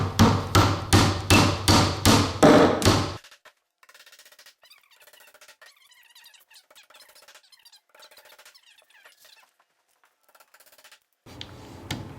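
Hammer driving nails into a cabinet carcass: seven evenly paced loud, ringing blows close by, then a long quiet stretch with faint squeaks and taps, and a final burst of hammering at the end.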